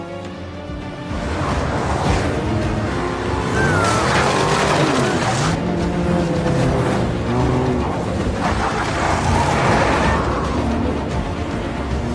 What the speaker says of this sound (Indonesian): Jacob pun langsung mengajak Littleby keluar dari tempat itu dengan mobil tempur miliknya.